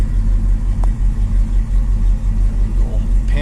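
A Plymouth Barracuda engine idles steadily with a low, even rumble, heard close and alone without talk.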